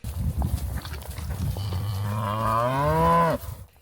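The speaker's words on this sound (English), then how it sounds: "we come across some of the cows the Huneywells run up here during the summer." Cattle grazing a mountain summer pasture give one long, loud moo that rises and holds before breaking off, following a stretch of softer low rumbling and ambient noise.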